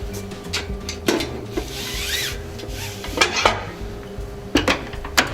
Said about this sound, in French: Dans la partie inférieure, on va ajouter l'outil qui s'appelle le fouet.